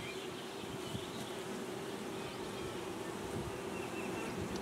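Honey bees buzz around an open hive in a dense, continuous hum that stays steady and close, with no voices over it.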